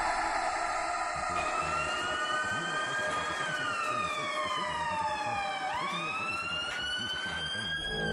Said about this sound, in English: the sirens wailed in the distance